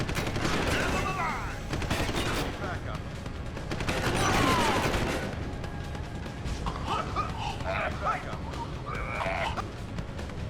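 Turret gunfire bursts out in Deus Ex: Human Revolution, loud rapid volleys of shots in several bursts across the span, with a voice speaking over the game audio.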